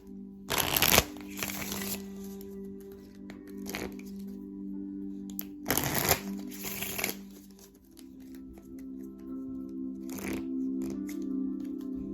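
Tarot cards being shuffled, with several bursts of crisp riffling and snapping card noise spread apart, separated by quieter stretches over a low steady hum.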